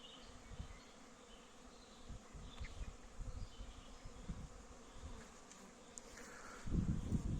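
Honeybees buzz steadily during cleansing flights around several hives, some of them weak colonies and the rest splits, with individual bees droning past close by against a dense outdoor hum that swells louder at the end.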